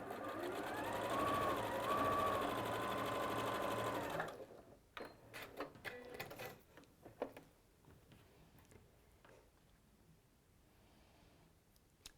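A sewing machine runs steadily for about four seconds while stitching a quarter-inch seam on quilt pieces, then stops, leaving scattered soft handling clicks and rustles near the microphone.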